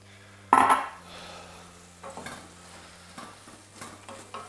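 Cabbage tipped into a hot pan hits with a sudden loud sizzling burst, then settles into a quieter frying hiss broken by a few soft stirring scrapes.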